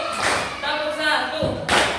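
A fifth-grade class claps together on a teacher's cue, giving sharp bursts of clapping with a teacher's voice in between.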